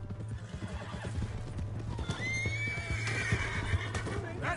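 A horse in the Red Dead Redemption 2 video game gives a loud whinny while its hooves clip-clop steadily underneath, set against a constant low engine-like drone and continuous game ambience.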